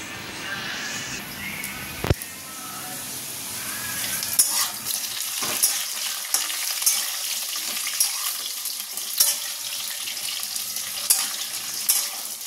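Potato and pointed gourd curry sizzles and fries in a home kitchen pan, a steady crackling hiss broken by occasional clinks and stirring scrapes of a utensil, close and moderately loud with no talk.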